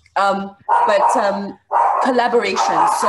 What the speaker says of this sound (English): that's my dog, that's my little baby barking now.